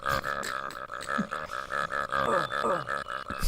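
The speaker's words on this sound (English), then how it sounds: "You groan and burp at the same time." Shrek the ogre groaning and burping together in the Xbox Shrek video game, a close, loud guttural rumble that sustains for several seconds with pulsing swells.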